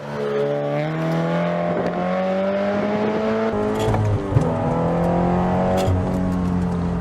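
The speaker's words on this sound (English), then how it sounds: "It's got a full exhaust. Also it's tuned so it gives you a nice little pop as well." A tuned 2013 Subaru BRZ track build with a full exhaust revs loudly and steadily up and down under acceleration, with a single brief pop from the exhaust partway through and no talking.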